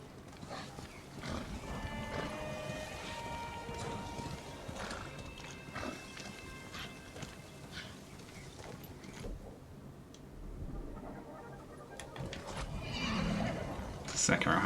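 Horse whinnies and hoof clatter in the video game Ghost of Tsushima, set against a busy game soundscape, with people talking over it.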